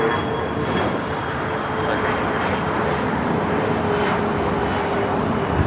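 A British Airways airliner takes off at Los Angeles International Airport, its engines a steady, loud, broadband roar that holds evenly throughout without any talk over it.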